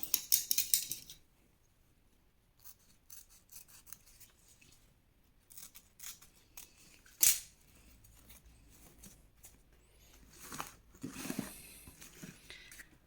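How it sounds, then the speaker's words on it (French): Scissors trim excess ribbon on a handmade scrapbook advent calendar: a few sparse, quiet snips and soft rubbing rustles with long near-silent gaps between. "je vais couper forcément l'excédent de ruban"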